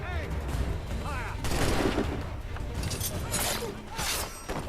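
Musket volley fired on command in Assassin's Creed III, a loud crackling burst of shots with shattering debris, then scattered bangs, with voices over it.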